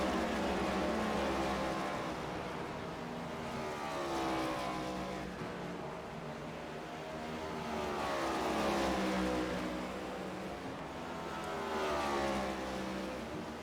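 NASCAR NextGen race car in iRacing at Phoenix Raceway, engine droning steadily with rising and falling pitch sweeps as it revs and downshifts, loud and continuous with no talk.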